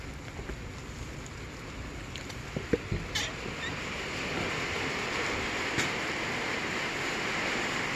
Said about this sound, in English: you can see it's raining today, and all the water stops at the French drain